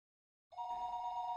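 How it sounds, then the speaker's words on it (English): A telephone rings in the visual novel game Higurashi When They Cry: a steady electronic ring tone starts abruptly after a moment of silence and holds evenly at a moderate level, with no voices. "It was then I noticed that the phone was ringing."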